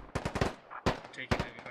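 Heavy gunfire in the Squad Ops video game, two quick bursts of rapid automatic shots followed by another burst, close and punchy with short gaps between.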